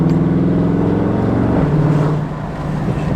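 A 2019 Dodge Charger Scat Pack cruises on a test drive, its engine a loud, steady low hum from inside the cabin that eases off slightly toward the end.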